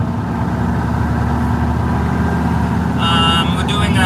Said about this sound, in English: You hear this engine. It's a 360 horsepower engine.